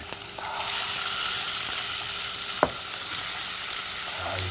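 Potatoes and carrots frying in a hot pan for kimchi fried rice give off a loud, steady sizzle, with one brief knock of a utensil against the pan partway through.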